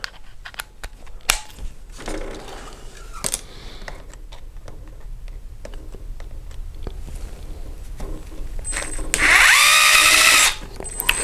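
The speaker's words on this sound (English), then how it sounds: "An old Black & Decker gyro and the Vanquish tips with their little 1/4 inch drive adapters" An old Black & Decker Gyro cordless screwdriver with a 1/4 inch drive adapter drives screws on an RC crawler, whirring in short bursts amid small clicks and handling ticks, then one longer, louder burst near the end.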